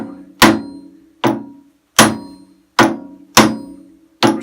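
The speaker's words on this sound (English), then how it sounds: "Definitely caught the first bushing. And it's getting easier as I pound it." Six heavy, evenly spaced hammer blows drive a bearing bushing into a Woodfast lathe, each a sharp ringing metallic strike that fades before the next, loud and close.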